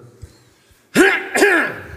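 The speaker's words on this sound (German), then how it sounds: "I clear my throat." A man clearing his throat twice in quick succession, close and fairly loud, after a near-silent pause with faint background noise.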